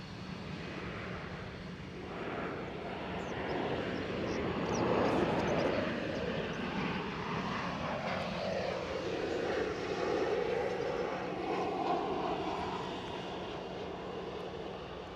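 A Ryanair airliner arriving from Funchal at Edinburgh Airport produces a faint, distant engine roar that swells and fades steadily for the whole stretch.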